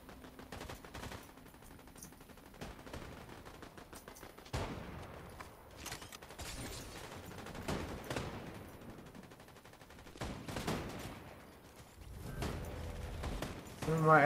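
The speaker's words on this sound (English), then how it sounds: "Couple of them over there shooting each other." Gunfire from players trading shots in Fortnite battle royale, with repeated sharp bursts and rapid volleys of automatic fire scattered through the clip at mid distance.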